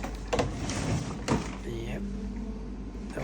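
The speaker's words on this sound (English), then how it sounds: "open the front door, and we need to open the right door." Front and right doors of a Xerox VersaLink C415 printer being opened, giving two sharp plastic clunks a second apart, followed by a lighter rattle, with a voice speaking nearby.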